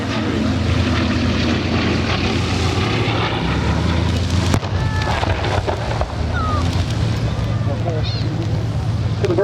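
Piston engines of a Bristol Blenheim bomber drone loudly through a low attack run at an air festival, a sustained roar that swells and fades slightly, with faint wind and crowd noise and no clear speech.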